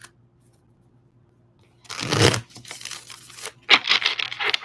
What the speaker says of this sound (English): I'm hearing another shuffle.